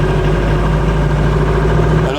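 A Ford Thames van with a Perkins diesel engine runs at a steady idle, a low throbbing drone with a constant hum, close and continuous throughout.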